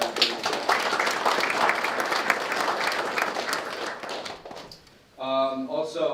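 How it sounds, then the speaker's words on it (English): Audience applause at a memorial service, a broad steady wash of clapping from a crowd that fades out near the end before a single voice begins speaking. "If we give another round of applause for that"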